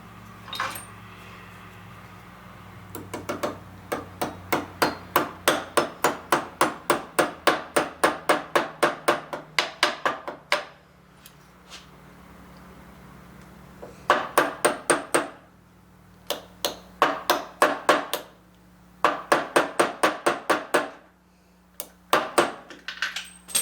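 A hammer drives a retaining pin back into a go-kart's limited slip differential, with rapid sharp metallic blows in several rhythmic bursts separated by short pauses, close and loud.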